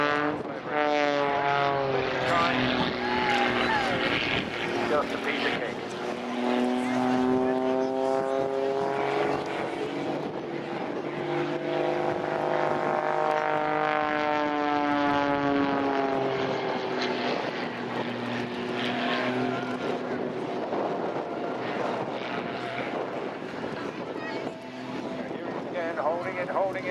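A Pitts Special S2S aerobatic biplane performs at the Air Waves Portrush 2015 air show. Its powerful propeller engine drones loudly and steadily, with its pitch sweeping up and down throughout, while a commentator talks over it.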